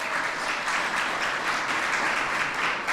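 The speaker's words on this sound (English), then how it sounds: "Please give her a round of applause." Applause from an audience at a community end-of-summer celebration, a dense, steady patter of many hands clapping throughout at moderate loudness, with no voices standing out.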